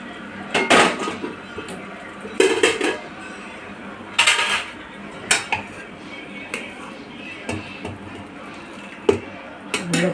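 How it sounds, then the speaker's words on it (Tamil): Cooked rice is stirred in a pan to make puliyodharai (tamarind rice), giving irregular metallic clinks and scrapes of a spoon against the pan, fairly close and sharp. "இப்போ சாப்பாடை போட்டு கிண்ட வேண்டியதுதான்"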